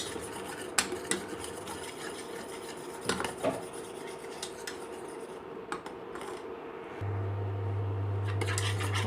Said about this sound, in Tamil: இந்த மாதிரி ஒரு விஸ்க் வச்சுட்டு கலந்துகிட்டே இருக்கணும்